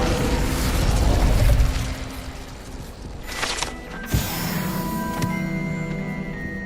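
Incendio fire spell cast in Hogwarts Legacy, a low rumbling whoosh of flame that swells then fades, followed by a sharp burst and ringing magical chimes, loud and alone.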